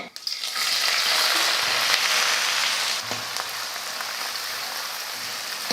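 Chopped onions sizzle and crackle steadily in hot oil, loud and close, with a brief stirring shift partway through.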